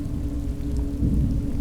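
A steady, dense wash of rain with a low rumble of thunder underneath, continuous and fairly loud throughout, swelling slightly toward the end with no voices.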